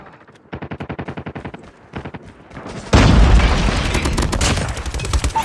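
Rapid automatic gunfire in Call of Duty Mobile, rattling bursts of machine-gun fire followed by a loud boom and dense, sustained fusillade with explosions close and heavy.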